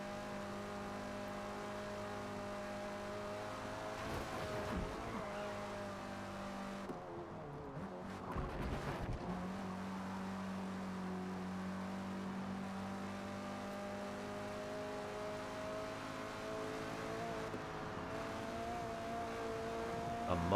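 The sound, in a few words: Mustang car racing on the Nürburgring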